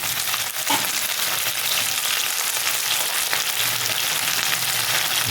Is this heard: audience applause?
no